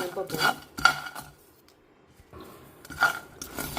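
Peanuts and sesame seeds dry-roasting in a pan, with bursts of rattling scrapes and clinks as a spoon stirs them, a quiet gap in the middle, then more stirring, close up.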